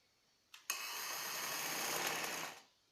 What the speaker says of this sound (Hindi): नेक के साथ साथ मगजी रखते जाएं और उसकी सिलाई लगाते जाएं।